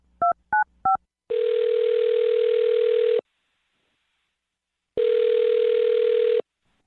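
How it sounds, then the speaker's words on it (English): A telephone call being placed: three short touch-tone dialing beeps, then two long steady ringback tones separated by a silent gap, clear and close with no talking. "I'll dial her phone number right now then"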